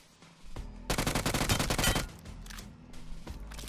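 A UMP submachine gun fires in BGMI (PUBG Mobile): a rapid, loud automatic burst of about a second, preceded by a low rumble and followed by a few scattered shots.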